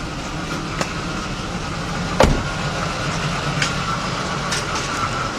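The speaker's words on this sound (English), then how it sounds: "This definitely got a misfire." A BMW 5-series engine idles with a misfire under the open hood, a steady rough rumble broken by uneven thumps and a sharper knock partway through, close and continuous, with no talk.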